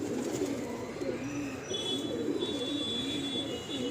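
A Nazra Kaldom pigeon from a breeding loft coos in a steady rolling rhythm, close and moderately loud, with faint background noise and no talk.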